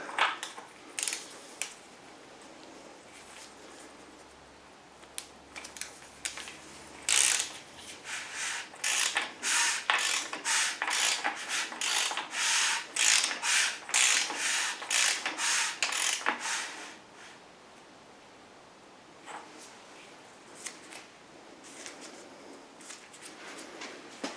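The bottom end of a Saab 9-5 Aero engine is turned over by hand, giving a rapid series of close mechanical clicks and ratcheting rasps that build to a dense burst and then trail off into sparse ticks.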